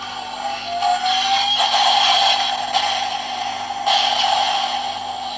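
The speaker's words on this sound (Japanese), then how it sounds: "トリガーを引くと必殺攻撃音。" Pulling the trigger on a DX Gashacon Sword toy from Kamen Rider Ex-Aid sets off a loud electronic special-attack effect, a sustained noisy blast with a rising whoosh and a few surging accents, heard close up without speech.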